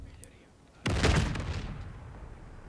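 Empire: Total War artillery battery firing, a sudden loud boom of a volley followed by rolling echoes and scattered reports fading over a couple of seconds.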